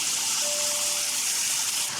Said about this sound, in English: I am now going ahead and just going to add the marinade